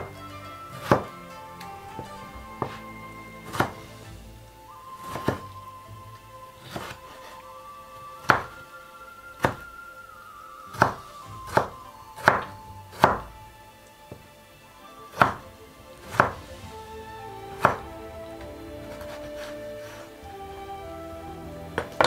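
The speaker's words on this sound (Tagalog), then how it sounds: "hiwa tayong kamatis" A knife slices through tomatoes on a cutting board, giving a series of sharp, close thuds at an irregular, unhurried pace, with a faint tonal hum in the background.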